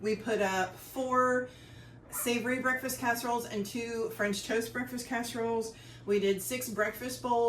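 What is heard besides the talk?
No everyday noise stands out behind the speech.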